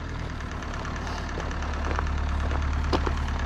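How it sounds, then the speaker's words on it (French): Tractor engine nearby, a continuous low rumble with rough knocking, already running steadily rather than cranking, with a few sharp clicks over it. "il y a le père qui démarre le tracteur."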